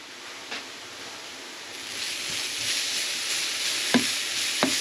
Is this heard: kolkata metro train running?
no